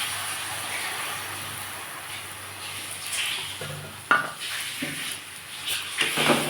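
A mustard and peanut paste is stirred and fried with fish and eggplant in a pan, giving a soft steady sizzle with intermittent scraping and clinks of a utensil against the pot.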